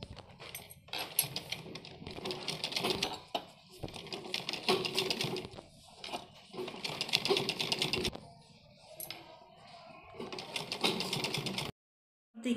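A sewing machine stitches a kurti's back neck design in runs of rapid mechanical clatter, with short pauses between bursts and a brief silence near the end.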